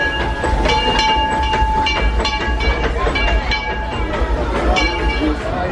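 A Disneyland train rolls steadily along its rails with continuous rumble and clickety-clack, bright ringing metallic tones over a loud, close, unbroken roar.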